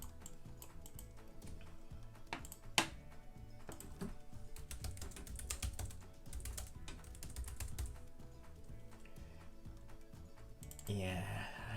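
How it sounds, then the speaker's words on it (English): Typing on a computer keyboard runs as a steady patter of soft key clicks through most of the stretch, with one sharper tap near the start and a louder rustle at the end, while someone talks over it at moderate level. "I might actually need to type stuff."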